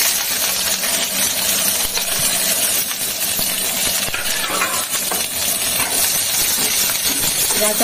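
Bay leaves frying in hot oil in a pan for bhuna khichuri, a continuous close sizzle and crackle with occasional stirring clinks, without talk.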